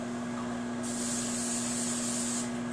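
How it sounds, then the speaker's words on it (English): Cooking spray hissing from a can into an oversized mug, one steady spray of about a second and a half, close and clear against a constant background hum. "we're going to spray it real good with cooking spray"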